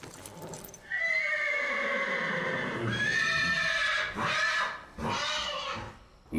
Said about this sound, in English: That horse going crazy.